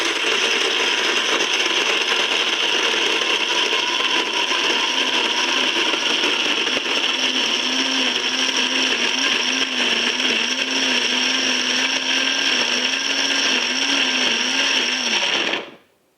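An Almond Cow plant-based milk maker runs with a loud, steady motor whir for about fifteen seconds, then cuts off abruptly at the end.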